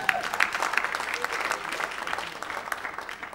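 Church congregation clapping to acclaim the Lord during a sermon. A short burst of applause from a crowd, loud at first and then tapering slightly.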